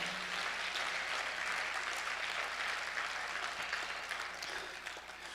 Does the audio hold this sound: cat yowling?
no